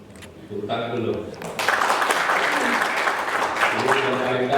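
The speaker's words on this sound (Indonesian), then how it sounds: "kemudian tepuk tangan dulu" Applause breaks out among an audience during a military commander's visit, a burst of crowd clapping following a spoken introduction, with voices and a tonal sound continuing over the clapping.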